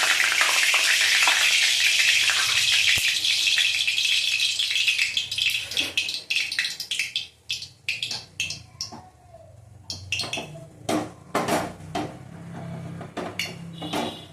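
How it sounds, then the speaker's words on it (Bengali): Small khoira hilsa fish fry in hot oil in a kadai, a loud steady sizzle that later breaks into clattering stirs and scrapes of a utensil against the pan. "ইলিশ মাছটা ভেজে নেবো।"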